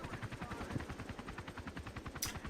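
Rapid, continuous automatic gunfire from jets on a strafing run in Battlefield 2, a steady rattling stream of shots with a sharp burst near the end.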